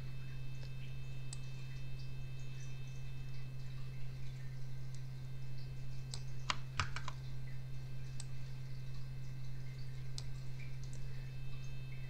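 Keyboard shortcut presses for copy and paste on a computer keyboard, set while preparing a laser-engraved token: a brief cluster of sharp clicks about halfway through, amid a steady electrical hum and scattered faint ticks.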